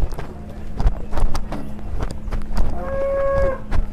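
Cattle low and moo at a cow contest in Tulungagung, with a clear drawn-out harmonic moo near the end over steady crowd and farmyard background noise; occasional hoof-like knocks come through.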